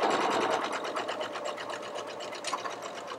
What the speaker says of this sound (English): I've got my dashed zigzag stitch ready to go, and off I go